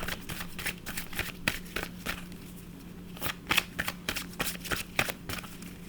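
Gratitude cards shuffled by hand in a quiet room, a steady run of crisp riffling bursts and soft flicks that come irregularly for several seconds, close and fairly quiet with no voice.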